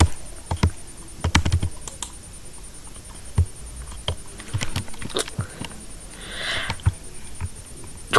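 Irregular bursts of keystrokes on a computer keyboard, tapped out while typing chat text in Roblox, with clustered clicks and short pauses, fairly quiet and close.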